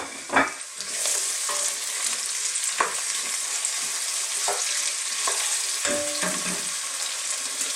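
Sunflower oil heating in a pan gives a steady close sizzle, broken by a few louder pops and stirring scrapes.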